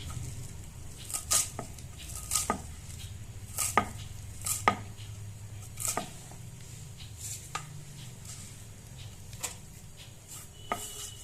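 Fresh coriander is finely chopped with a knife in a home kitchen: quiet, close, irregular taps of the blade striking the board, some in quick pairs, with no talking.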